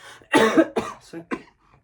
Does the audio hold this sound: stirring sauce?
no